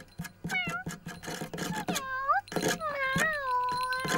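A cartoon cat gives several clear, close meows with rising and falling pitch, interleaved with short percussive sounds and brief bursts of talk.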